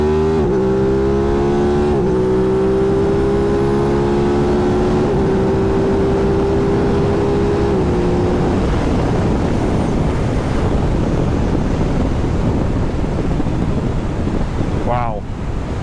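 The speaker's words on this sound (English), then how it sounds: "I don't know if you can hear the sound over the wind, but this bike sounds amazing" An Aprilia RS660 motorcycle's engine climbs through its revs while riding, a rising tonal snarl with gear-change breaks, then fades into heavy rushing wind noise that dominates the rest.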